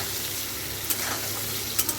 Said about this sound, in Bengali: তো আমি একটু নুন হলুদ দিয়ে আলুটাকেও ভেজে নিচ্ছি, লাল লাল করে একটু ভেজে নেব